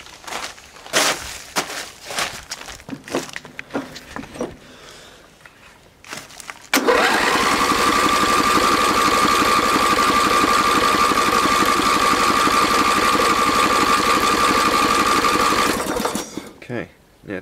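A Yardman ride-on mower's Briggs & Stratton 13HP engine, which has no spark and a disconnected ground or kill wire, cranks over loudly and steadily for about nine seconds with a droning whine, after some softer clatter and handling noises.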